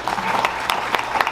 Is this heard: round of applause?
yes